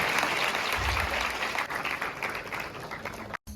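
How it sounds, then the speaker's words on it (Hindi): Loud, sustained applause from an audience filling an auditorium at a guidance event about a law entrance exam, steady and dense throughout before cutting off abruptly near the end. "जोरदार तालियों के साथ मैम का स्वागत करें।"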